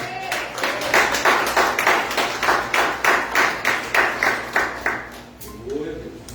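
A church congregation claps together in praise, loud rhythmic unison claps at a steady beat of about three per second, then the clapping fades and a voice is briefly heard at the end.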